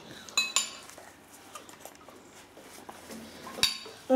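A metal spoon clinks against dishes as a small child eats, giving scattered light clinks and scrapes at close range, with a few sharper knocks over quiet room noise.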